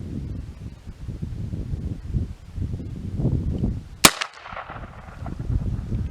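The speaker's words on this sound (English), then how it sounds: "Okay, fire in the hole." Single sharp gunshot during test firing at paper targets outdoors, a loud crack with a brief ringing tail, set against quiet rustling and wind.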